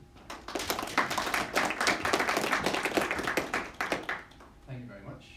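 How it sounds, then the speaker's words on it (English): An audience at a talk on AI and games claps for the speaker in a room, a brisk patter of close hand claps that thins out before a voice begins speaking at the end. "So if you could give a round of applause for Dr. Thompson."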